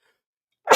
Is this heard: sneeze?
yes